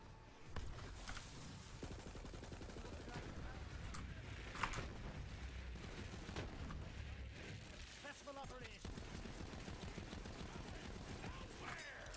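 The Clairvoyance gun fires in Borderlands 3 during fast enemy farming, rapid repeated shots and impacts mixed with game effects, heard faintly under someone talking throughout.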